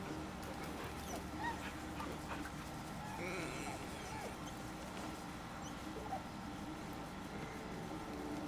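Soft dog whimpering from a puppy in the video game Baldur's Gate, faint and intermittent over a steady background game ambience with low hum.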